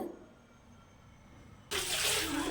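Quiet background, then a sudden steady splashing rush of water being poured into a pot of fish curry, loud and close, continuing to the end.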